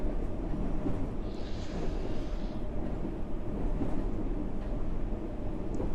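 A C-stock London Underground train running in the World of Subways Vol 3 game, a steady low rumble and drone of wheels and motors, continuous and fairly loud throughout.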